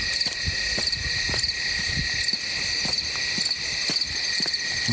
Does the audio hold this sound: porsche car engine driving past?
no